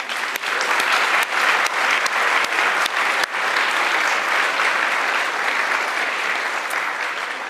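Audience at a game programming lab presentation giving a big round of applause, dense sustained clapping from a crowd, loud and even for several seconds.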